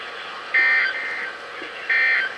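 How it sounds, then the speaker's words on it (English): A phone's notification beep sounds twice: two bright electronic tones about a second and a half apart, over a steady hum of radio broadcast audio in the background. "Yep, that was my phone. That was my phone going off."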